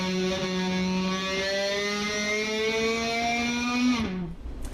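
A sustained, buzzing electric guitar note, bowed with a bow and slowly bent upward, droning steadily with a harsh bowed texture before abruptly cutting off near the end.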